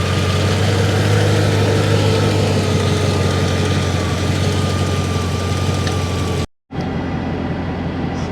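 A 1990 Mercedes 560SEC AMG engine idling after a major tune-up, with the AC on, a steady close low rumble with a faint whine, briefly cut near the end before resuming.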